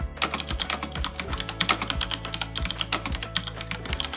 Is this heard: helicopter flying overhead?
no